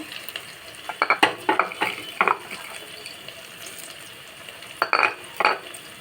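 Garlic, ginger, curry leaves and tempering spices fry in a pan with a steady close sizzle, broken by clustered scrapes and clinks of stirring early on and again near the end.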